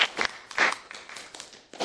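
A few scattered claps from a high school class audience, brief and uneven, with several sharp hits spread over a couple of seconds rather than full sustained applause.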